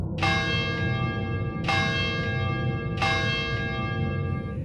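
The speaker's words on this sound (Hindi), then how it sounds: "जैसे ही 12 बजे, घंटी फिर बजने लगी।" A large temple bell is struck three times at an even pace, each ring resonant and long-sustaining, overlapping the next.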